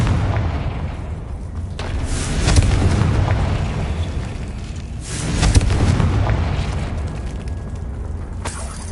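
Confringo fire spells blast in the Hogwarts Legacy video game, producing several heavy booming explosions with rumbling tails, loud and close, one after another over a constant background drone.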